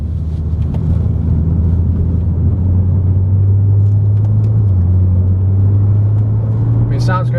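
Audi S4 engine while driving and accelerating, a steady deep rumble with a low droning tone that rises slightly in pitch, heard from inside the car with road and wind noise throughout.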